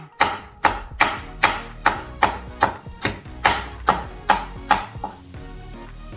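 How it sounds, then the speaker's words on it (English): A knife chops chilies on a cutting board for a Korean chive pancake, about fourteen crisp, evenly spaced strokes landing close and clear, with no talking. "So then let's just cut chilies."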